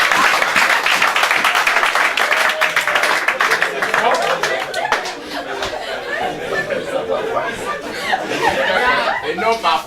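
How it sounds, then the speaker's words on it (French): Audience applause and clapping sound loud and continuous at a political meeting in Beaulieu, Akanda, mixed with chuckles, chatter and voices throughout. "Merci, on applaudit."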